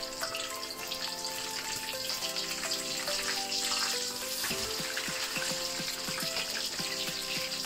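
Sea bream frying in a pan, a dense steady crackle and sizzle of hot oil running throughout, close and continuous with faint clinks.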